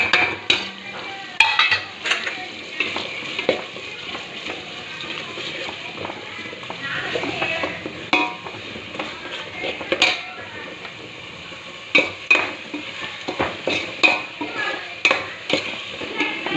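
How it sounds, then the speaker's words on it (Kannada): A paste of ginger, garlic, green chili, curry leaves and coriander frying in oil in a pan for a simple vegetable-free pulao, with a low sizzle and repeated metallic scrapes and clinks of a stirring spoon in an irregular rhythm. "ಸ್ವಲ್ಪ ಎಣ್ಣೆ ಒಳಗೆ ಫ್ರೈ ಮಾಡ್ತೇನೆ"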